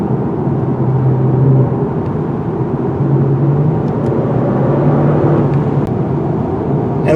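A 2021 Genesis G70 sports sedan accelerating hard along an open back road, its engine a steady, loud drone that holds without a break, with some wind and tyre noise mixed in.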